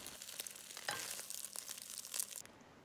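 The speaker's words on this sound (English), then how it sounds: "After that, we scramble the eggs." Eggs sizzling and frying in a hot oiled wok while being stirred and scrambled, a close, steady crackle with scraping strokes for pad Thai with shrimp.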